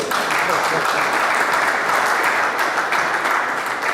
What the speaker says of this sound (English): I think we should clap for it.